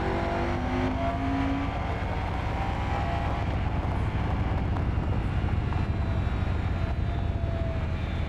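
Moto Guzzi Stelvio motorcycle engine pulling hard through an acceleration run, a loud continuous engine roar with rising and shifting tones, heard close and alone without talk.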